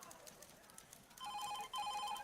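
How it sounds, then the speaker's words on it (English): Telephones ring in the second half with bright repeated electronic trills, in two bursts, over a soft background murmur. "Phones ringing off the hook."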